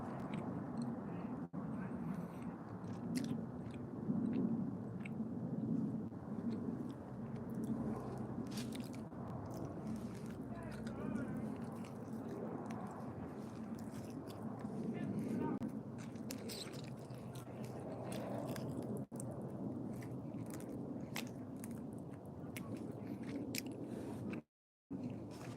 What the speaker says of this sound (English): I'm fucking munching out on a Buffalo Wild Wing.